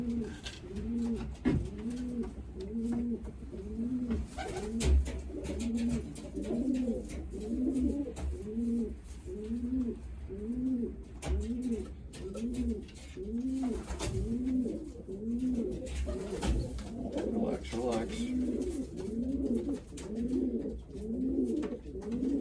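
Pigeons coo steadily in a racing-pigeon loft while young birds are being banded, layered rhythmic coos repeating close by for over twenty seconds, with occasional rustles and clicks but no talking.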